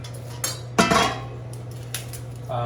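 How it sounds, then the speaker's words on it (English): A metal pot is moved across a stove, a few short clanks and scrapes over a steady low hum, the loudest knock near the middle. "I'm going to move this pot over here to make it easier for him to put the onions in"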